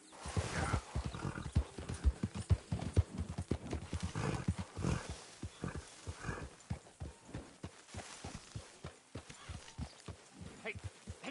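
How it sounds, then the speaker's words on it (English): A horse in the video game Red Dead Redemption 2 whinnies over rhythmic clip-clopping hooves, with irregular hoofbeats going on throughout at a moderate, fairly close level. "Hey, get that horse out of here!"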